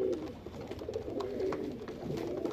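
Pigeons cooing at a pigeon loft, a soft, continuous murmur of overlapping low coos from several birds nearby, with no talking.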